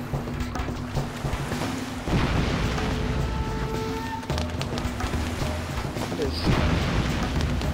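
Deep booming blasts and rumbling roll on continuously in the video game Far Cry, with heavy low-end thuds and mechanical noise, loud and busy.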